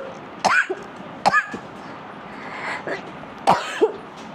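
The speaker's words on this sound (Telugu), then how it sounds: "దగ్గు అయితే విపరీతమైన దగ్గు కాదు" A person with a heavy cough lets out three sharp, close coughs spaced about a second or two apart, with a faint throat-clearing sound between them.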